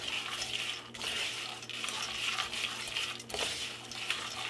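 Pumpkin seeds with butter, sugar and cinnamon are stirred in a pan, a spoon scraping and rattling against the metal with a soft background sizzle, close and continuous.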